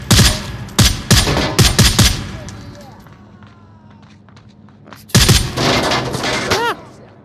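Bursts of blind gunfire in the VR shooter Onward ring out in sharp rapid volleys at the start, fall away to a quiet stretch, then return as another loud cluster near the end, with voices under the action.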